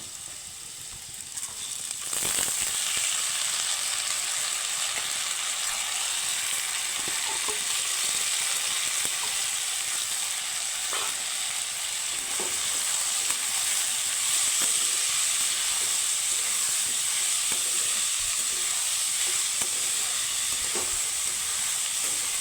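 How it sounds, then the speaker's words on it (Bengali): Masoor dal (red lentils) fries with papaya pieces in an oiled pan, with a constant close hiss and sizzle that swells after the first couple of seconds and has light stirring knocks scattered throughout. "তো মুসুর ডালের সাথে আমি একটু ভেজে নেব"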